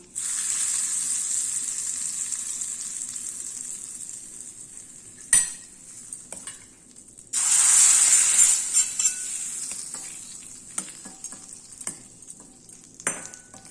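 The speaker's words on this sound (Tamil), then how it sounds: "பட்டை மிளகாய், கருவேப்பிலை வந்து தாளிச்சிருக்கேன்" Cinnamon, chilli and curry leaves sizzle in hot oil while tempering for a Tamil kootu, a steady hiss with a louder burst midway, plus scattered spoon clinks and stirring.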